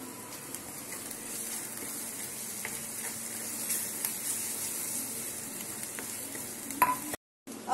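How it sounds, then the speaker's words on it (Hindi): Garlic and ginger paste frying and being stirred in a pan, a steady close sizzle with scraping stir strokes throughout, alone without talk, cutting off briefly near the end. "इसमें हम लहसुन और अदरक का पेस्ट डालेंगे।"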